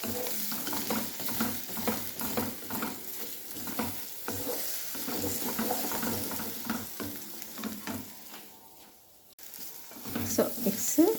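Eggs with salt are stirred in a frying pan for masala egg rice, a steady sizzle with repeated scraping strokes of a utensil in a rhythmic pattern, briefly dropping quieter before resuming.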